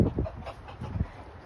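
Backyard chickens, including one named Tilly, squabble over a dead mouse, giving short bursts of close, low clucking in quick uneven clusters.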